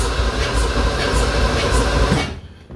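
A starter motor cranks the 289 V8 in a 1965 Ford Mustang, giving a loud, steady, grinding whir with faint regular pulses that cuts off abruptly near the end.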